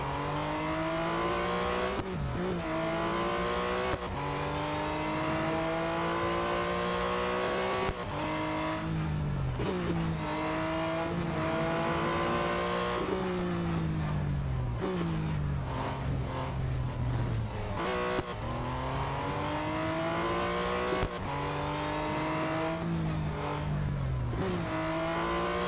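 A race car engine in a racing video game roars continuously, revving up and dropping through gear changes and climbing again, loud and unbroken with no voices.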